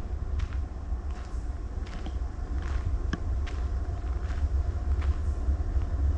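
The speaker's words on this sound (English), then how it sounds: "Oh, good. We get a train, too." A train rumbles past near a Lincoln Park tree nursery on a Waterfall Glen hiking trail, a steady low roar with faint clanks and squeals above it, continuous and fairly close, heard alone without talk.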